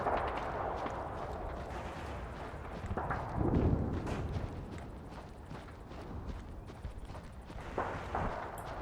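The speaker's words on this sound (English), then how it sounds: "Just a little gunfire, that's all." Distant gunfire in a 1942 war film sounds as faint, scattered bangs and thumps over a murky, low battlefield rumble, with one heavier burst near the middle.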